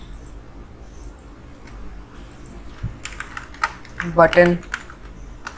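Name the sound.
typing on a computer keyboard in Unity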